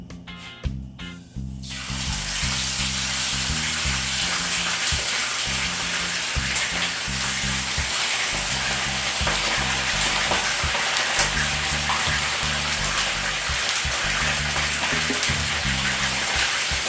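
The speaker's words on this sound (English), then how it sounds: "the oil is now hot and it's now time for me to start the frying of the fish" Fish for Jamaican brown stew fish dropped into hot oil bursts into loud, continuous sizzling and crackling that carries on steadily for over fifteen seconds, close up, with faint background music underneath and no talking.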